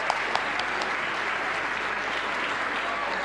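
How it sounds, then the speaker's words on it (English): An audience at the South African Women in Science Awards applauds the awardees, a continuous wash of clapping at moderate volume with a few sharper individual claps near the start. "Another round of applause for all the awardees tonight"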